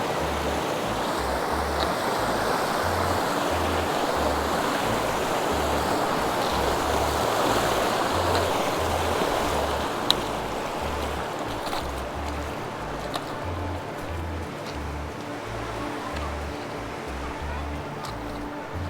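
River water rushes steadily through a rocky streambed on a hike down the Bras de la Plaine toward Entre-Deux, a continuous broadband roar close by that holds level from start to finish.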